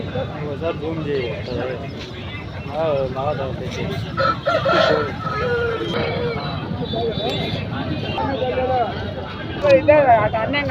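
A kaki rooster of Tamil Nadu bloodline, about 23 inches tall and 3 kilograms, crows repeatedly amid constant chatter and noise at the Rayachoti market in Kadapa district.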